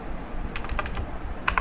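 Typing on a computer keyboard, a short burst of crisp, close key clicks in quick irregular succession over a quiet background hum, no voices.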